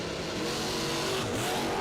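Camaro Roadster and wheel-standing pickup truck launching side by side at a drag strip, a dense, loud roar of engines with rising revs and tyre noise, heard from a distance with no talk.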